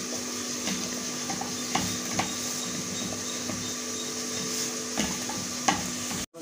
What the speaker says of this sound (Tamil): இது எல்லாத்தையும் நல்லா கலந்து வச்சுக்கலாம்.